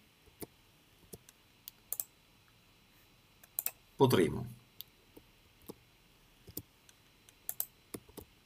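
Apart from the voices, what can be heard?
computer keyboard typing a password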